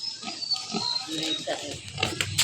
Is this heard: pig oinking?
yes